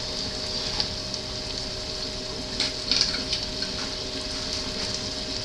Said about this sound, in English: I poured in probably a 1/4 cup of the sherry cooking wine